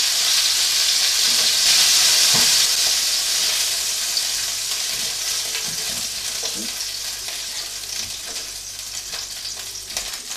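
Steak pie filling sizzles and fries in a saucepan over turned-down heat, a steady bright hiss with occasional spits and pops, close and continuous, easing slightly over time.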